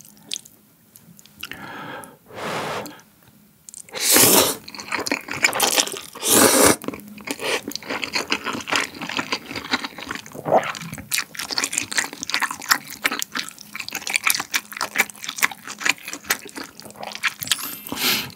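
Jjawang instant jjajang noodles eaten close to the microphone, with bursts of loud wet slurping followed by steady sticky chewing and smacking, no talking.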